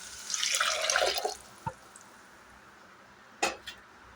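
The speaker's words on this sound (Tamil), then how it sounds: "நம்ம ஏற்கனவே வேக வச்ச பருப்பு தண்ணியை ஆட் பண்ணிக்கலாம்" Cooked dal water being poured into a pan of sautéed vegetables for potato sambar, a short liquid splash and gurgle lasting about a second, followed by a couple of faint clinks and a drip-like knock.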